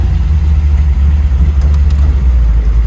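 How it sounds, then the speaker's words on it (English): 1940 Ford Deluxe gasser with a 383 stroker engine, a 400R transmission and 9-bolt Ford rear end, idling after a cold start, a loud, close, deep rumble, steady and lumpy with no voices. "we got a cold start and drive on our 1940s gasser"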